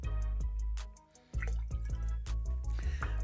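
Pressed 100% apple juice is poured into a cocktail, heard as close liquid splashing and dripping in short bursts with a brief pause midway, no talk.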